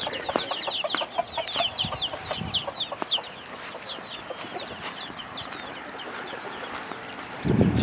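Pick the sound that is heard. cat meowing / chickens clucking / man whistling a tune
chickens clucking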